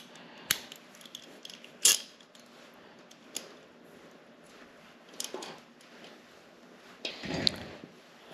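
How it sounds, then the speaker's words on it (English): A Torx T45 driver works bolts loose from the cylinder heads of a Harley-Davidson Iron 883, giving quiet scattered metallic clicks and ratcheting scrapes at close range. The sounds are separated by pauses. "we need to take off these two screws from the cylinder heads, these two bolts."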